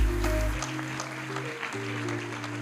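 An audience at an airline training college graduation ceremony applauds the student coordinator, with continuous clapping over a sustained musical tone.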